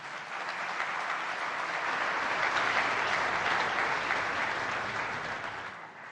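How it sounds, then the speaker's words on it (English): Dense, sustained applause from a large conference audience at the Raisina Dialogue, a full even wash of clapping that swells slightly and holds for several seconds. "please applaud yourselves"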